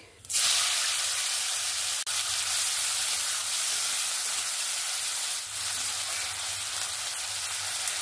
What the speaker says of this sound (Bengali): পেঁয়াজটাকে সুন্দর লাল লাল করে ভেজে নেব